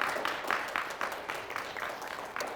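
A small game-show studio audience claps in a rhythmic, fairly close pattern of repeated bursts, moderately loud and even-paced, with no voices heard.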